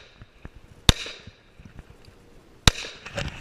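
Pistol fire at an outdoor IDPA defensive shooting match: two sharp, loud shots about two seconds apart, each trailing off into a brief echo, with faint shuffling and clatter between them.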